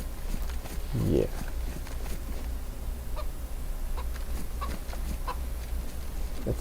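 A hen clucks in the survival game DayZ, a few short scattered clucks over a steady low ambient hum, with a brief louder sound early on.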